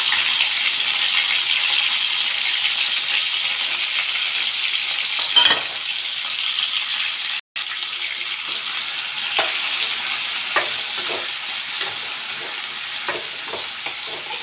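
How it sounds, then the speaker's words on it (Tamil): Eggplant pieces for a Tamil oil eggplant curry sizzle steadily in hot oil, a constant crackling hiss with occasional soft clinks and pops. "அப்படியே இந்த கத்திரிக்காய் ஒவ்வொன்றா போட்டுடலாம் எண்ணெயில்."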